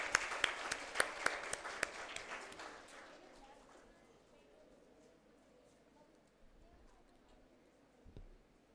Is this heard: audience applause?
yes